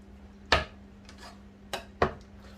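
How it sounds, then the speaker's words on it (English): A spoon knocks against a plate three times while serving pasta fagioli, sharp close clinks with pauses between them against a quiet steady hum. "So I'm just going to put a few spoons into there."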